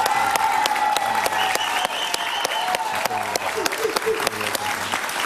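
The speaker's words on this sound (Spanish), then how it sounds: "pido un aplauso para él, por favor" A studio audience at a television interview with a former Colombian president claps steadily and fairly loudly for several seconds, with faint background voices and music tones beneath the applause.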